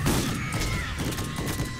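Shotgun fire in the video game Borderlands 1, a dense rapid burst of heavy blasts and clattering impacts packed into a couple of seconds, loud and continuous against game background noise.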